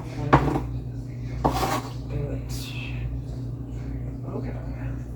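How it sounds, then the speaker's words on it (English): Food is chopped in a home kitchen while making fresh garden salsa, with a few sharp knife knocks and clinks against a board and dishes over a steady background hum. "I'm about to start chopping just because I'm tired."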